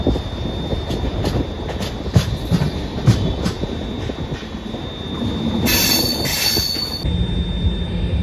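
Devagiri Express passenger train running from Hyderabad to Mumbai, a steady loud rumble of wheels on rail with a sharp burst of wheel squeal partway through, heard from on board with no talking.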